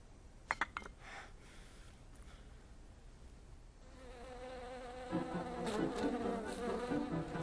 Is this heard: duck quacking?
no